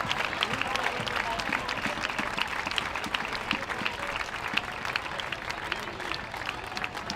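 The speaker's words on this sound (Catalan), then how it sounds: "Vinga, un fort aplaudiment per aquesta rebuda." Dense, steady applause from a large outdoor crowd in a town square during a giants festival handover ceremony in Sant Climent de Llobregat, continuous and loud throughout with scattered cheers mixed in.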